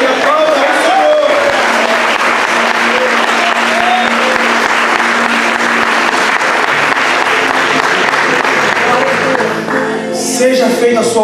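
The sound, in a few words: congregation applauding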